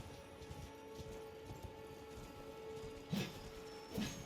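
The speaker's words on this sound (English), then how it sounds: "now I'm back on the horse and I'm back to chasing it down" Horse galloping in the video game Elden Ring: faint, steady hoofbeats thud low beneath a constant game ambience, with two louder hoof impacts standing out near the end.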